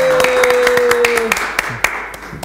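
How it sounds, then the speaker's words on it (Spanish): An audience claps for visiting guest pastors, with a scattering of sharp claps in loose rhythm under a sustained voice at the start. "así que este aplauso es para ellos"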